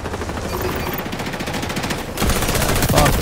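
Automatic weapon fire crackles in rapid bursts in the shooter game XDefiant, loud and continuous, growing heavier and closer partway through.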